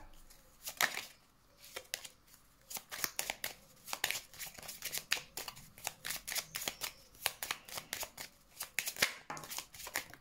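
Tarot cards are shuffled by hand for a reading, a string of close, crisp riffling and flicking bursts in irregular rhythm, quiet and without talk.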